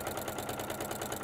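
A sewing machine stitches binding onto a layered quilt, running at a steady motor hum with a fast, even needle rhythm, close and continuous for about a second with no talking.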